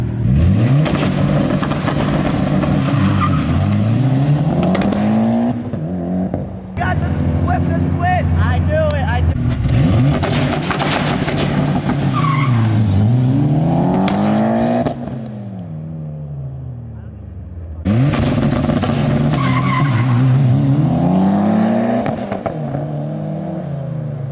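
A Mitsubishi Evo 10 or turbo Miata engine roars hard launching from a standstill, revs climbing and dropping through gear shifts, repeated several times with short pauses, loud and close.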